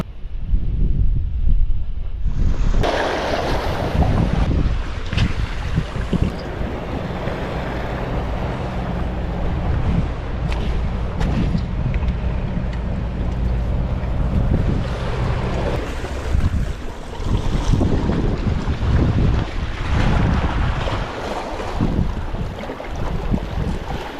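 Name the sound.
strong wind while fishing by the water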